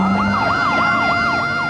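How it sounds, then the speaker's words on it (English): Ambulance sirens at the scene of a high-explosive blast during the 1991 Gulf War ground invasion, wailing loudly and continuously in rising and falling sweeps, with no voices. "Ambulances immediately converged on the scene"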